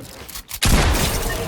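A loud burst of gunfire from the video game Fortnite, striking abruptly after a brief quiet gap and ringing on with a dense, noisy decay, without talk.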